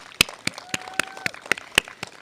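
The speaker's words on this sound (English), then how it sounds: "Let's give them one more round of applause" Sparse, rhythmic clapping from a small audience at an elementary school awards assembly, distinct claps spaced roughly every quarter second with a faint tone in between.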